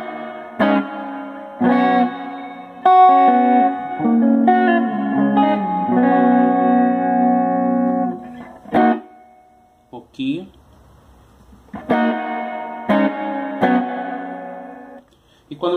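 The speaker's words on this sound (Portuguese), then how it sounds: "luz vermelha, um spring reverb" Electric guitar played through a Boss Katana amplifier with its spring reverb switched on, giving sustained chords and single notes a bright, splashy tail. Phrases stop and start with short gaps, and a voice briefly talks between them.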